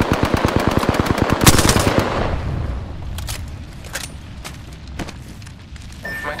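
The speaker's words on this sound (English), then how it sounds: "Opening fire on the enemy." Rapid automatic gunfire in the shooter game Apex Legends rattles in a fast, loud burst, then thins into scattered single shots and sharp cracks over a lingering rumble.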